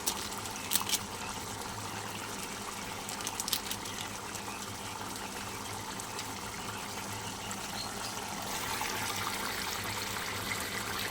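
Jackfruit and prawn curry gravy boils in a pot with a soft, continuous bubbling hiss. It is faint and steady, with a few louder pops early on and no talking.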